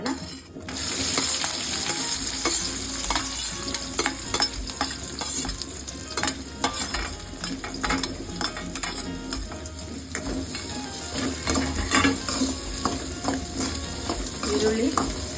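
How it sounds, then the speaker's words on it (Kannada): Two medium onions, finely chopped, frying and being stirred in a pan for a spicy soya chunks masala fry, a steady close sizzle with scraping stirs and occasional utensil clinks, no talking. "ಈರುಳ್ಳಿ ಸ್ವಲ್ಪ ಫ್ರೈ ಮಾಡ್ಕೊಳ್ಳೋಣ."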